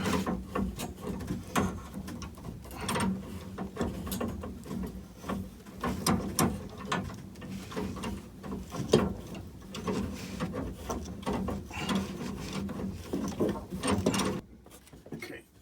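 A wrench clicks and scrapes against a leaking main water shut-off valve as it is tightened, irregular close metallic knocks and rattles repeating for several seconds before stopping at the end.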